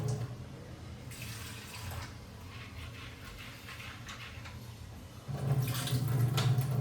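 Tap water runs steadily into a sink as sprouted peanuts, chickpeas and mung beans are rinsed, the flow grows louder and fuller for the last second or so.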